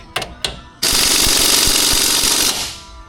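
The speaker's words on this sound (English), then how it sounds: "it took all the beans from this impact to take these off, so it's going to take all the beans to put them back on" A hard-working impact wrench tightens brake caliper bolts on a car with stuck brakes: two short bursts, then a loud sustained hammering rattle lasting almost two seconds before trailing off.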